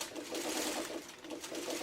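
A sewing machine stitches fabric pieces for a Dresden quilt block, giving a steady, soft, fast whirring chatter with slight pulsing as the needle runs continuously, quiet and close.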